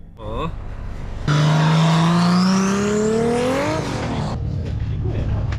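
Drift car at full throttle at a drift competition, a loud engine roar rising steadily in pitch as it accelerates, then dropping away, heard close and sustained, with people talking over it.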